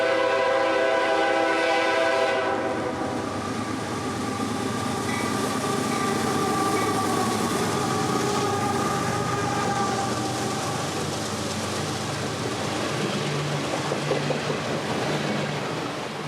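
CSX freight train C905 rolls past at a trackside spot on the old W&A line in North Georgia, its horn sounding loud at the start before a long, continuous rumble and clatter of wagons.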